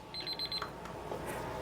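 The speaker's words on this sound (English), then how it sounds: "That's my timer." A kitchen timer beeps in a rapid string of high electronic pips for about half a second, faint against a quiet background hum in a kitchen where a persimmon cake is baking.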